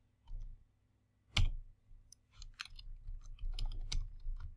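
Keystrokes on a computer keyboard while entering code in a JavaScript editor, a scattered run of light clicks and taps, close and fairly quiet, with one sharper knock near the middle and no talking.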